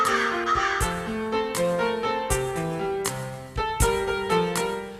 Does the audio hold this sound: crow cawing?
yes